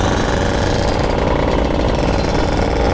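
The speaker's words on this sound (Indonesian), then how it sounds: "Gua gregetan banget sih ini karena kopling gua slip." 2002 Yamaha F1ZR two-stroke motorcycle with a slipping clutch, its engine a loud, constant, buzzing rattle at close range with no pauses and no talking.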